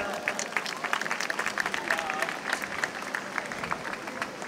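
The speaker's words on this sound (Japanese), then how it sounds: "まずは8名に大きな拍手をお願いします。" A stadium crowd applauds the eight finalists of a women's 400 m hurdles final at the Kanto athletics championships, with scattered clapping and cheers rising and falling under a public-address announcer.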